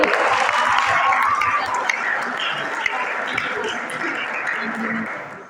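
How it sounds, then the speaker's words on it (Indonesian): An Indonesian school audience claps for a guest speaker, Bang Rizky, in a steady, dense wash of applause that carries on for several seconds with faint chatter underneath. "Tepuk tangan dong buat Bang Rizky."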